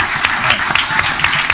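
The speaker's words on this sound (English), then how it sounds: "just give me a round of applause for Matt." Dense, steady audience clapping at a township committee meeting that carries on without a break for a moment.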